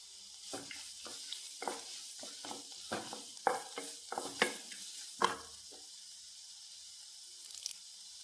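Tomatoes are stirred and fried in a pan for rava kichadi, irregular close scrapes and stirring clatters over a soft sizzle, alone without voices.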